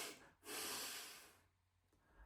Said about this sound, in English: And you breathe out 2 units.